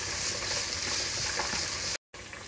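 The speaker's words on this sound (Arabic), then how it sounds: "زيت زيتون وبنقلب فيه البصل" Onion frying in olive oil in a pan for a stuffed courgette filling, a steady close hiss and crackle of sizzling that fills the whole clip, broken by a brief cut near the end.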